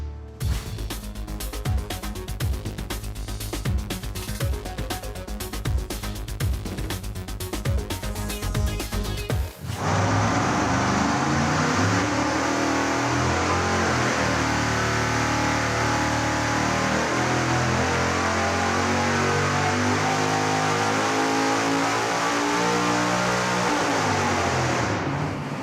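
A supercharged big-block Chevy engine on a dyno, running nitrous, howls at high load with a rapid, pulsing roar, then shifts abruptly into a sustained, dense, jet-like blast that holds loud and steady for the rest.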